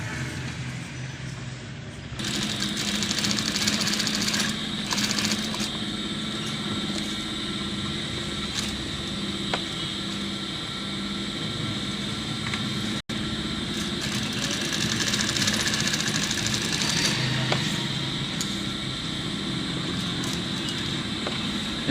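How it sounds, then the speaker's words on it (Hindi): Sewing machine stitching over cardboard and cloth, a steady whirring motor drone that runs continuously after starting, with faint intermittent ticks riding on top. "तो इसके ऊपर हम सिलाई लगाएंगे।"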